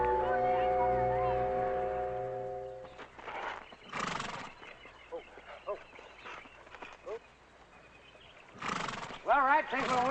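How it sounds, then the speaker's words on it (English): A horse whinnies twice, loud and close, with a few soft hoof clops in between, while people talk nearby in a 1962 drama scene. "Beautiful horse."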